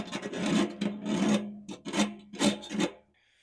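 A scraper or nail scratches frost off the bottom of a metal barrel stove outdoors in an Alaskan winter: about five short, harsh rasping strokes close by, with brief pauses between them, then quiet.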